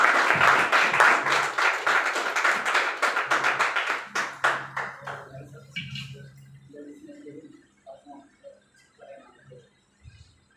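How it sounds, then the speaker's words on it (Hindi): An audience at an AWPL gathering claps in honour of a leader, starting as loud, rapid, rhythmic clapping that thins out and fades after a few seconds into scattered, sparse claps and faint background sounds. "तो जानदार और शानदार तालियां होनी चाहिए पुनः सर के लिए, सम्मान के लिए"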